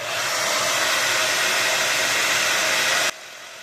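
Hair dryer heating mustache wax, a loud steady hiss of blowing air running for about three seconds before it switches off, with no talk.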